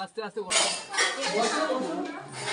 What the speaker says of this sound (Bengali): এই দেখো পরিবেশন করছে